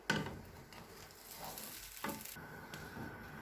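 Cheesy Domino's-style garlic bread toast sizzles steadily in a pan over a medium-low flame, a faint continuous frying hiss with a few soft clicks of handling, no talking.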